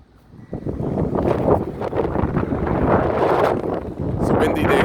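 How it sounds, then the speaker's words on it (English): Strong wind blows at the shore, buffeting the microphone with loud, gusty rumbling and rustle that builds and stays constant throughout. "It's a windy day here"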